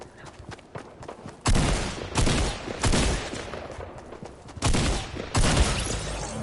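Gunfire in the Fortnite video game comes as several loud bursts of automatic shots, separated by quieter gaps with faint background game noise, and no voices over it.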